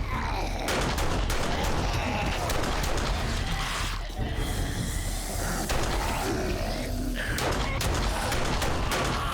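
In the zombie survival game 7 Days to Die, a player shoots a zombie with dense, loud bursts of gunfire and heavy thuds, with a few groan-like sounds mixed into the din.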